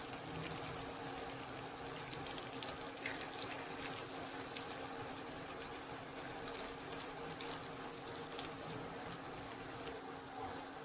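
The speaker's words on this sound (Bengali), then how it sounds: "গরম তেলে পিঠেগুলো একটা একটা করে এভাবে দিয়ে দেবো" Pitha cakes fry in hot white oil in a frying pan, giving a steady, dense sizzle and bubbling hiss that stays even and continuous throughout, with no one speaking.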